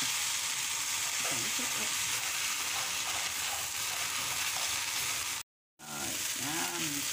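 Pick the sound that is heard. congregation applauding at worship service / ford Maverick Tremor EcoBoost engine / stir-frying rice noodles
stir-frying rice noodles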